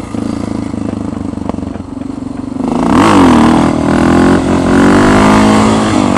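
A motorcycle engine revs hard during a wheelie on a road, a steady loud drone that climbs sharply in pitch midway and holds a strained high roar close by.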